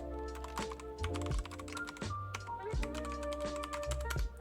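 Rapid typing on a computer keyboard, dense close key taps in uneven bursts, heard over a steady tonal background of game music or sound.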